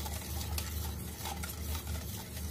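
Hun kwe flour batter stirred in a pot or bowl while making kue bongko, a steady continuous scraping and swishing close up, with no talk.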